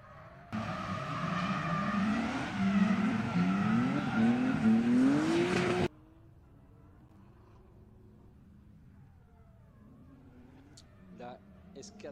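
Audi S4 drift car accelerating on track at a French drift championship round, a loud close engine roar climbing through rising revs for several seconds, then cutting off to a quiet, distant background.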